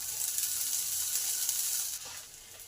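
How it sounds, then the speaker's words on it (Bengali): Cumin, asafoetida and grated ginger sizzle in hot oil in a pan, a fairly quiet continuous hiss with a small knock near the end and no voices. "এই হিং আর আদাটাকে ভালো করে ভেজে নেব কয়েক সেকেন্ড।"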